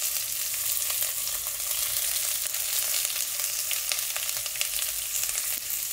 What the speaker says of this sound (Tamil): இப்போ வந்து வெங்காயம் கொஞ்சம் வதங்கிச்சு